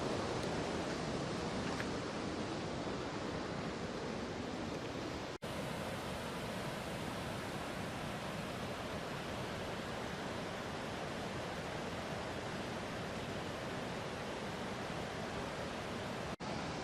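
Taboose Creek rushes close by in the Sierra Nevada of Inyo National Forest, a loud, unbroken broadband roar of churning mountain water with no voices.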